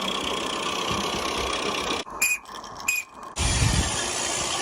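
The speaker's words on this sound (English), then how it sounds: "Here my Regner is running with my Mamod Brunel." A Regner model steam engine runs alongside a Mamod Brunel, giving a steady mechanical chuffing and hiss with a short squealing interruption in the middle.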